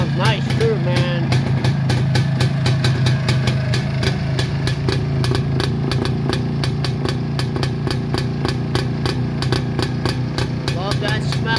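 A motorcycle engine runs steadily and loudly nearby, its idle-like chugging thrum continuous throughout as the bike rides off, with a voice talking briefly over it.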